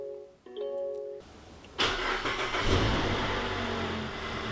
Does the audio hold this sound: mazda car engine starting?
yes